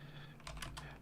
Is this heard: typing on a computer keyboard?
yes